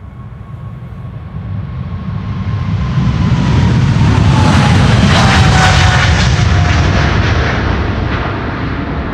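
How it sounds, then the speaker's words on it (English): A Delta Air Lines airliner, flight 75 bound for Atlanta, Georgia, passes on a windy day, its jet roar swelling to a loud, close peak with a whining engine tone, then slowly easing off, with no talk. "Another Delta approaching. Delta Airlines Flight 75 to Atlanta,"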